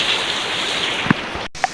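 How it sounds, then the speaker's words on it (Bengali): Heavy monsoon downpour, a dense steady hiss of rain close by with a couple of brief louder drops or knocks near the end. "এখন আবার এক দমকা বৃষ্টি নেমেছে। একবারে মানে ভীষণ বৃষ্টি হচ্ছে, ভীষণ।"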